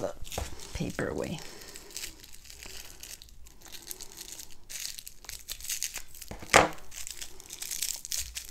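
Paper wrapping on a diamond painting craft item is crumpled and torn away in crinkly bursts, with a sharp rip partway through, while people talk.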